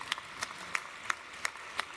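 Claps ring out at the UN SDG Action Award 2018 ceremony, six sharp, evenly spaced hits at a steady pace, fairly faint against a quiet room.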